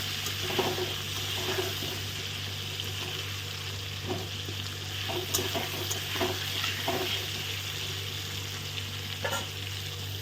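Onions going into hot oil in a wok, already salted, frying with a steady close sizzle and occasional stirring scrapes and clatters throughout.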